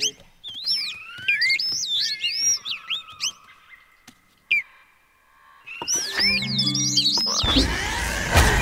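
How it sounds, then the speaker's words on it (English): Chirpy, whistling bird calls from the video game Spore sound in short bursts amid sparse game effects, ending in a louder noisy swell. "The bird."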